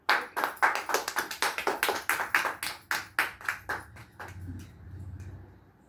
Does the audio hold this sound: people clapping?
yes